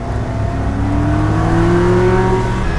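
A 2002 Ferrari 360 Spyder's engine, mounted right behind the seats, revs up steadily and loudly from the cabin, its rising whine climbing smoothly in pitch over a dense, continuous mechanical roar with no voices.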